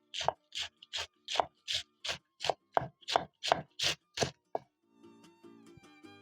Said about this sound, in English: I'm going to finish off shredding my cabbage